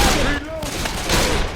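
Gunfire crackles in Left 4 Dead 2 during a ProMod Parish match, a dense near burst of shots layered with game effects and a faint tonal sweep across the whole moment.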